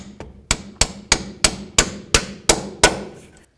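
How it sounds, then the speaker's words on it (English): A hammer drives a cotter pin out of a ball joint on a 1988-2002 GMC Sierra 1500 front upper control arm: eight sharp metallic strikes land in an even rhythm, close and loud, with no talk over them. "You might have to cut it and then punch it through."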